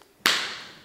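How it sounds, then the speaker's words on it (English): A single sharp hand clap in a hospital corridor, loud and close, followed by a long reverberant tail that fades over most of a second. "If I were to clap my hands in this corridor, it would sound like this."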